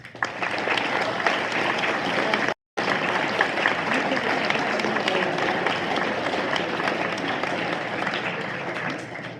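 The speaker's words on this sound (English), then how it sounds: "Students, please give them a round of applause." Students applauding parents and teachers at a junior high honors program ceremony, a long, full round of clapping from a large room that briefly drops out before continuing steadily.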